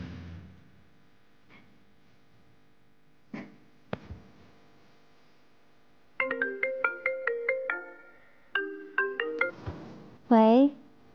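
A mobile phone ringing with an incoming call: a bright melodic ringtone of repeated tonal phrases, near and clear, following a few soft knocks and rustles.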